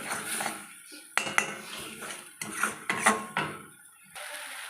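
A spice masala fries in a pot while a metal spoon repeatedly scrapes and clanks against its sides, in irregular bursts of stirring with short pauses, close by.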